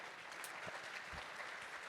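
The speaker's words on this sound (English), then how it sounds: "please give them a big round of applause" A panel-discussion audience at a smart-economy event gives a short burst of applause. The clapping sounds faint and distant, like a soft crackling patter.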